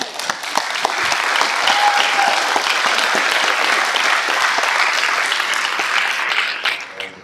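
A church congregation applauds during a Sunday service, steady dense clapping from many hands that rises quickly, holds for several seconds and tapers off.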